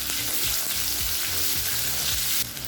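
Small onions fry in a pan for sambar, a constant loud hiss of sizzling oil with a few low knocks from stirring, close up.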